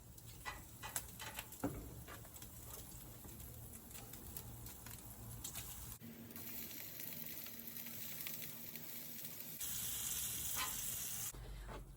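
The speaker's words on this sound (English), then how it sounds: "I've got the bacon and the onions continuing to cook" Bacon and olive-oiled onions sizzle on a Napoleon grill, a steady close crackle and hiss with scattered pops that swells louder toward the end.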